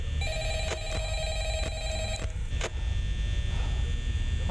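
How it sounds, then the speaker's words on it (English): Telephone ringing in the video game Five Nights at Freddy's, several electronic rings in a row over a steady low hum, with no speech. "Just answer the phone."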